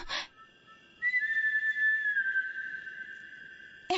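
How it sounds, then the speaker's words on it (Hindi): Eerie whistling in a Hindi-dubbed horror film, a single long sustained whistled tone that bends slightly in pitch and holds for about three seconds, bracketed by short bursts of other sound at the start and end. "ये सीटी वही बजा रहा है"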